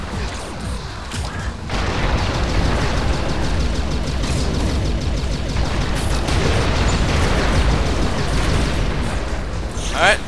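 Loud, sustained rumbling explosions as robots are blown apart in the Descent 3 video game, a dense crackling roar swelling after a brief quieter start and continuing heavily to the end.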